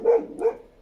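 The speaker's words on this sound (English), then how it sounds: "Sorry, that's my dog." Two quick barks from a dog, fairly faint and a little distant, in an indoor room.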